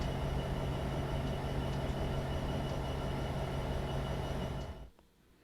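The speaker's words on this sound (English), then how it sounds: "you are slowing down, but as your train is so long, it will take a while to come to a complete halt" Long simulated freight train rolling and braking toward a halt, a steady loud rumble of wheels and cars with a low hum that holds, then drops away abruptly near the end.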